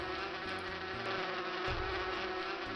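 Bees buzz steadily and loudly throughout in the video game Inherit the Earth, a dense continuous drone over low game music with no talking.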